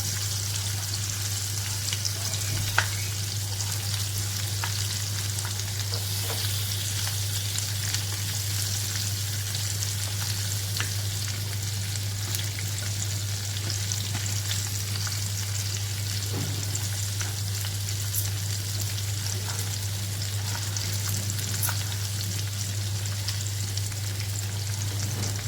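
Onion and tomato roasting in an open pan, giving off a steady, even sizzle with faint crackles and a low stove hum, continuous throughout and free of talk.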